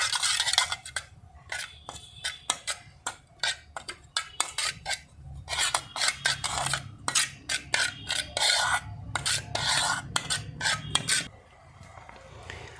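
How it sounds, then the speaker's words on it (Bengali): A spoon stirs yogurt and salt in a bowl, scraping and clinking close up in fast irregular strokes for several seconds before stopping, with no talk over it. "লবণের সঙ্গে দইটাকে খুব সুন্দর করে মিশিয়ে নেব"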